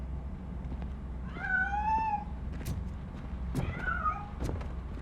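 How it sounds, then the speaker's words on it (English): A cat meows in the video game Robocop: Rogue City, giving two drawn-out, plaintive meows a couple of seconds apart over a low ambient hum. "That cat must be hiding inside. Let me lure it out."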